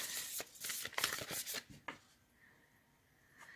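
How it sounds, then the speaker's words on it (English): Oracle cards being shuffled by hand, a quick burst of crisp riffling and slapping strokes for about two seconds, then near silence with a faint final rustle. "These are so freaking hard to shuffle."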